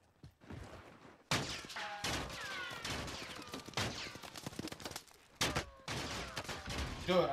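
Heavy gunfire in the video game Warzone, rapid bursts of shots cracking from several directions in close succession, loud and near, with brief gaps between volleys and occasional thuds underneath.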